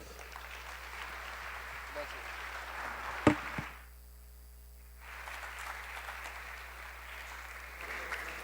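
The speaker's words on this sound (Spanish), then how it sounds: "les pido a todos los concurrentes que los despidamos con un fuerte aplauso" Audience at a national tourism forum applauding, a broad steady clapping wash with one sharp bang, then a brief lull before the applause resumes at similar strength.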